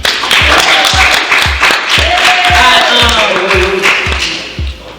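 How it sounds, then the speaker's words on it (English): Applause for the speakers at a mental health keynote event in Baton Rouge, loud and close, with a steady beat of low thumps running under the clapping and brief tonal sounds through the middle. "let's give a round of applause again for the speakers"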